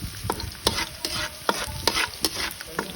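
Garlic sizzling in oil in a pan for ginataang tilapia, with steady frying crackle under regular spatula scrapes and taps against the pan, close and fairly loud, with no talking.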